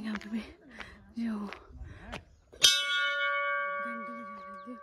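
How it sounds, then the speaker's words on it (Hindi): After a person talks briefly, a metal temple bell at a main entrance is struck once, ringing out clearly and sustaining with a long shimmering decay. "घंटी बजा रही थी"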